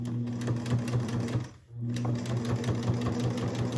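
A sewing machine stitches through bulky oven mitt layers with a rapid, steady mechanical whirr and tapping needle rhythm, close and loud, pausing briefly in the middle before resuming.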